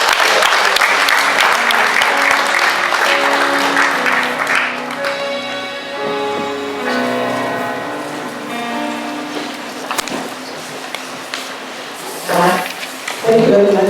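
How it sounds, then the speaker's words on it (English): Audience at a health conference applauding, dense loud clapping that fades into scattered claps while a voice begins speaking over the tail. "So please give a warm applause."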